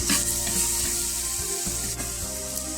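Tomatoes frying in a pan are stirred, giving a loud, steady sizzle with a scraping, rubbing texture and a low hum beneath; nobody talks.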